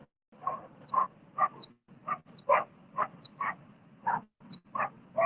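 Several dogs bark and yip in repeated short bursts around a riverside spot on the Ganga, fairly close and steady across the whole stretch, with no talking.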